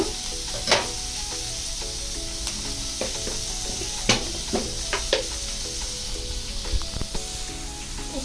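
Egg roll mixture sizzling in a pan, a steady frying hiss with scattered sharp clicks and scrapes of stirring, close and continuous with no talk.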